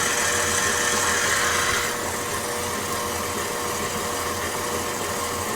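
Stand mixer kneading bread dough, a steady motor hum and churning drone that runs continuously and close, slightly quieter after the first couple of seconds, with no talking.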